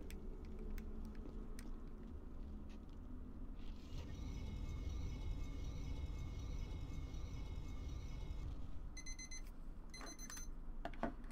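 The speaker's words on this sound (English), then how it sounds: "There's my timer." A timer alarm going off during a Tomb Raider: Anniversary play session: a steady electronic beeping pattern enters partway through and repeats in short bursts near the end, sitting over a constant low background hum.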